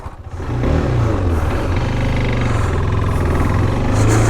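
A KTM RC 390 motorcycle engine pulls steadily on the road, a loud, continuous close-up drone that rises after a brief quieter start and holds for several seconds.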